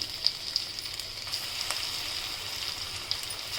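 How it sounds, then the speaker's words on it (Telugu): Ginger garlic paste dropped into hot oil for an egg pickle hisses with a steady, bright close-up sizzle, with a few small crackles and pops scattered through it and no voices. "జింజర్ గార్లిక్ పేస్ట్ వేసుకుందాం"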